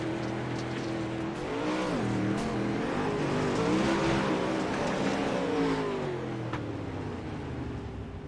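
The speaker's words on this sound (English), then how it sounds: "See if we go on board with the 9 of Brian Jones." Onboard a pro late model race car on an oval track, the engine drones loudly and steadily, its pitch rising and falling as the car accelerates and lifts, with faint tire noise.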